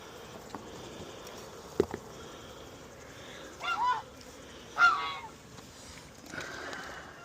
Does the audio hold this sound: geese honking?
yes